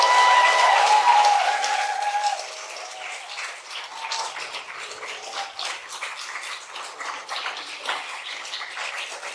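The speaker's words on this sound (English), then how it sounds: "how about a round of applause for the fellows?" Audience applause for a cohort of emerging writers at a literary reading, steady dense clapping from a seated crowd, loudest at first and then settling into a softer, sustained patter.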